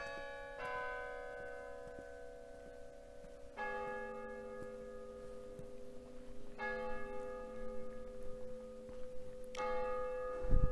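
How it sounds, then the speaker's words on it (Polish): A church bell near Zavelstein castle tolls four slow, evenly spaced strokes, each ringing out and decaying, heard from a moderate distance in a quiet evening setting. "Dzwon z kościoła nas pożegna"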